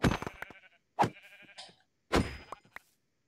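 Video game sheep bleat in three separate bursts with short pauses between, clear and close, with no talking.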